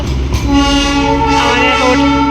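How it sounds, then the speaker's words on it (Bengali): A passing train heard close and loud, a steady rumble with strong sustained horn-like tones running through the whole stretch, from a hill-railway journey near a station. "এই যে ট্রেনটাও চলে গেল"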